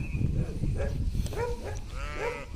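Sheep and goats in Romania, a few short nearby bleats and calls from the flock, moderately quiet outdoors.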